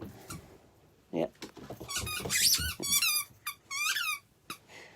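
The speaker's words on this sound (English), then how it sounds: "This is her squeaky ball." Several sharp high-pitched squeaks from a dog's rubber squeaky ball being squeezed in quick bursts, close by, mixed with shuffling and faint background noise.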